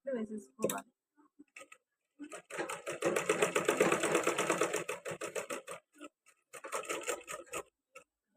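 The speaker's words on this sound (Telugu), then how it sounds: "అలా 2 కుట్లు వేసేసుకోవాలి." A sewing machine stitches a blouse shoulder in quick rapid bursts, a dense mechanical ticking and whirring that starts and stops several times, close by, with someone talking at moments between runs.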